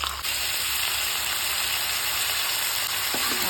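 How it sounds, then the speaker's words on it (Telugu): Chicken fries in a pan over a gas flame, a loud, even sizzle and hiss held close throughout, with a faint clink near the end. "చికెన్ అయితే వేసుకున్నాను"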